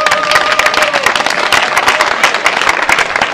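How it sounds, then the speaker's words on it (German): An audience at the Kulturbrauerei applauds a clown performer, a dense, loud, continuous patter of many hands clapping that fills the whole stretch without a break. "Drum zollt mir Beifall."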